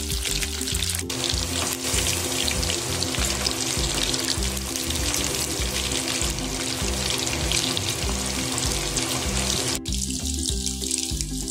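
Chicken 65 pieces fry in hot oil with a dense, continuous sizzle and bubbling that stays close and loud, dropping away briefly near the end before resuming.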